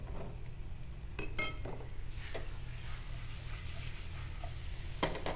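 Cut banana pieces saute in a pan of butter and caramelized brown sugar, giving a steady close sizzle with a few stirring scrapes and light clinks, and no voices.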